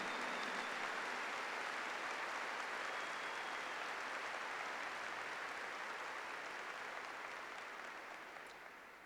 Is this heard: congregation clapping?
yes